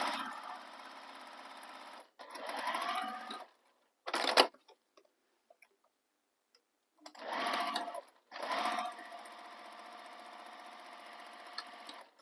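A sewing machine stitching a handbag seam, running in loud, steady whirring bursts that stop and restart, with a short rattling burst and a near-silent pause midway.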